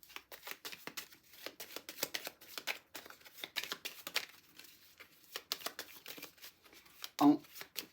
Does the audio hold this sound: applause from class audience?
no